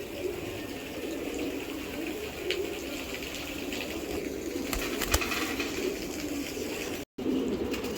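Giribaz pigeons cooing in a loft where pedigree birds are kept for sale, soft repeated coos close by over steady background hiss, with a couple of sharp knocks midway and a brief dropout near the end.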